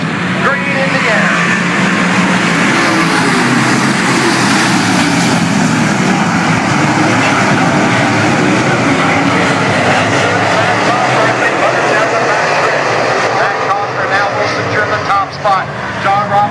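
Steel block Bandits race cars roar off at the start of a heat race at Natural Bridge Speedway, a loud, dense wall of engine noise that holds for the whole stretch while an announcer talks over it.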